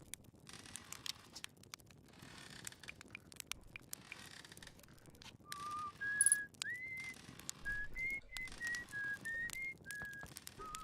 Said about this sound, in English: So I got an unidentified signal nearby, which is actually him whistling.